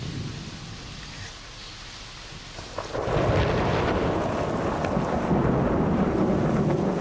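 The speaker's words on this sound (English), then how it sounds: "That's thunder." A low, deep rumble of thunder during the Sri Lankan monsoon builds and swells to a loud, sustained roll halfway through, with wind and rain noise underneath.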